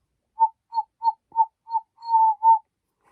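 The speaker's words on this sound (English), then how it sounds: "it's just a whistle." A small whistle sounds a series of short, evenly spaced chirping toots, then a longer warbling note and one final toot, clear and alone.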